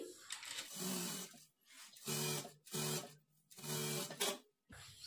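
A sewing machine stitches a work blouse in three bursts of steady, fast mechanical whirring, each about a second long and separated by brief pauses, close by and alone with no talking.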